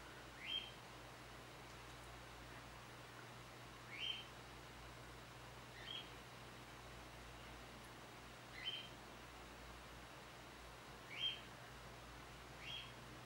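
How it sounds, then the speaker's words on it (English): Short, bright bird chirps ring out one at a time every few seconds, about six in all, against a quiet, hushed background. "as you can probably hear, I do have birds."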